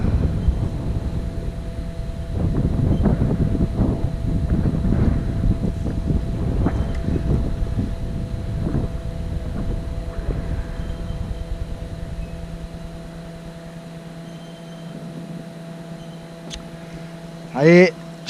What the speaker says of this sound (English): Wind's getting up too.